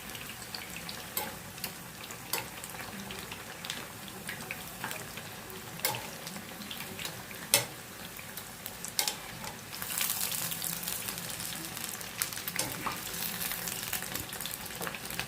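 Crispy raw banana kebabs fry in hot oil, giving a faint, continuous crackle with scattered small pops that swells into a brighter, steadier sizzle toward the end.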